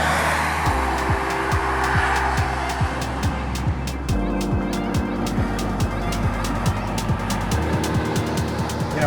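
Stock Audi with a 2-liter TFSI turbo engine and quattro drive accelerating hard, engine note rising and dropping through repeated gear changes, loud and close with steady road roar.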